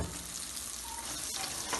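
Eggs for anda ghotala frying in a pan with black pepper and a little oil, giving a steady soft sizzle with a faint scrape of stirring.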